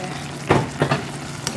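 An egg mixture for oyakodon cooks in a pan with a soft steady sizzle, broken by a few brief scraping stirs near the start.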